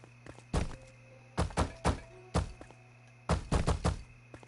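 Stone blocks being placed in the video game Portal Knights give short, punchy thunks in irregular bursts, some in quick pairs or triples, close and fairly loud with quiet gaps between.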